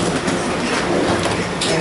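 An ATL Skytrain airport people mover at Atlanta's airport rumbles along at speed, with continuous wheel noise, rattling and faint clacking, loud and close.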